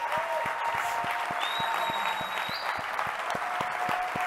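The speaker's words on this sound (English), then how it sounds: "let's give my team a round of applause" Sustained audience applause fills a room after a presentation on hiring and training insurance agents, steady and fairly loud throughout, with regular low thumps under the clapping and no talk over it.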